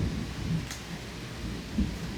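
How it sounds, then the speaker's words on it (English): Heavy rain falling outside, a steady dense hiss with low rumbling, continuous and moderately loud, no voices. "It's raining really hard right now"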